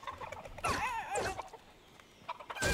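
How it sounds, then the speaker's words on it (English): A Fortnite chicken gives a few quick, quiet clucks in short bursts with brief gaps between them, and another cluck starts right at the end. "Chicken!"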